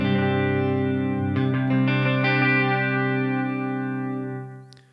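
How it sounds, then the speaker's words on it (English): Electric guitar through an Eventide Rose delay pedal with the expression pedal heel down, a sustained chorused, slightly distorted chord with modulated repeats that rings steadily and fades out at the end. "So this is the sound I've got at the moment with the heel down on my expression pedal."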